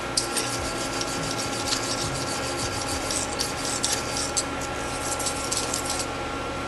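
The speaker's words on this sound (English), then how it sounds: "we want to scrub it down first with this? With a stainless steel brush or chemicals to remove the oxide" Stainless steel brush scrubbing aluminum to strip the oxide film before welding, a steady close-up scratchy rubbing with quick bristly strokes running throughout, no voices.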